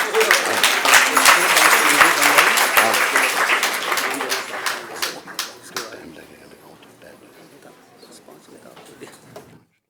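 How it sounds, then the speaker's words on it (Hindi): Loud clapping from a gathered audience at a Sunday satsang in Mauritius, strong and dense at first, then thinning out to scattered claps and fading away. "अगर ताली जोर से बजाओगे तो रघुनाथ जी खुश हो जाएंगे।"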